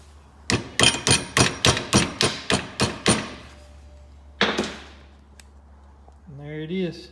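A metal sleeve is hammered into the eyelet of an Arctic Cat 300 ATV shock absorber: nine sharp, evenly spaced blows in quick succession, a lone heavier strike after a pause, then a brief voice at the end.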